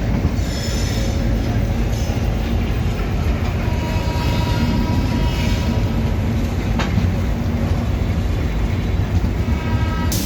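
Tamil Nadu Express pulling out of Chennai Central, with a steady loud rumble of rolling wagons, wheels squealing high on the rails and a brief sharp clank partway through, heard from inside the moving train with no talk.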